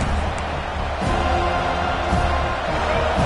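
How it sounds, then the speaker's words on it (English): A stadium crowd roars at a Georgia vs FSU football game, a steady, dense wash of cheering and noise with faint voices mixed in. "This crowd bringing the energy and noise early."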